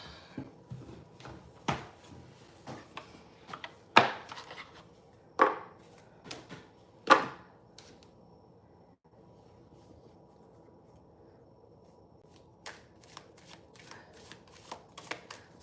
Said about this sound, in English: We're gonna also take a card from this deck for you.